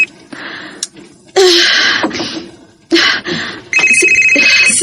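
A cellphone rings again for another incoming call, loud electronic ringtone bursts recurring several times with short gaps and a sharp breathy sound between them.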